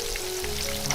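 Spoonfuls of batter deep-frying in moderately hot oil over low heat, a steady bubbling sizzle with soft crackles and a faint tonal hum beneath, close and even.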